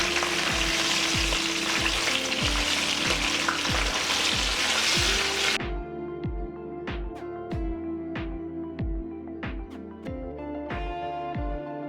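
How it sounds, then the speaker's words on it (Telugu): Crispy corn fries in oil over a medium flame. A loud, dense sizzle fills the first half, then eases to a lighter crackle, with steady rhythmic knocks of stirring throughout. "ఇది మనం మీడియం ఫ్లేమ్లో పెట్టుకుని ఫ్రై చేసుకుందాం"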